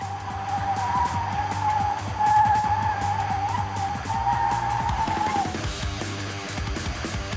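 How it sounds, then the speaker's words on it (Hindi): A Mercedes-Benz G580 EQ electric SUV spins 360 degrees in place on full throttle, its tires scrubbing and squealing in a steady, close rasp with a low motor hum beneath, easing off toward the end. "फुल थ्रॉटल देना है और तब ये एक ही स्पॉट पर 360 डिग्री स्पिन होती है"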